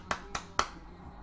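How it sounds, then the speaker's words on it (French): Three sharp hand claps land close together in a quick, slightly uneven rhythm, faint and close, with a quiet room tone around them. "Moi aussi, j'applaudis."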